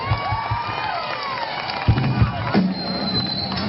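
An audience cheers and shouts for a young singer at an outdoor audition, a busy crowd roar with whoops and children's voices, moderately close and continuous.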